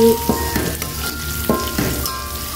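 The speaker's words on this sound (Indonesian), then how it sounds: "Ini sebenarnya numisnya nggak usah terlalu lama, karena kan tadi itu udah kita goreng juga" Shrimp paste and ground spice paste stir-fry in a hot pan for fried rice, a loud steady sizzle broken by a few clanks and scrapes of the utensil against the pan.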